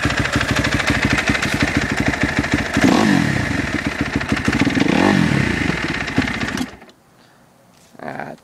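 A 2010 Kawasaki KX250F dirt bike engine runs loud and close with a steady rough idle and a couple of brief revs, then stalls and cuts out abruptly, leaving near silence before a short faint noise at the end.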